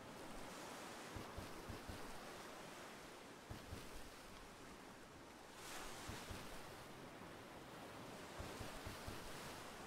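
Ocean waves in a Roblox Star Wars game wash in a continuous broadband surf roar with slow swells and faint wind, steady and low in level throughout.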